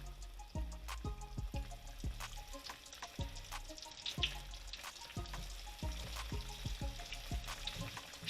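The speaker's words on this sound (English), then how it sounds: "Just wanna drop it in the grease" Flour-dredged pork chops sizzling in hot grease in a pan, a continuous crackling fry punctuated by sharp pops and spatters, close and fairly quiet, with no talking.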